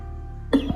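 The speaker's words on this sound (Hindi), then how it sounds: "हाँ खांसी है।" An elderly woman gives a single sharp, close cough with a short throaty follow-up, loud against a low background hum.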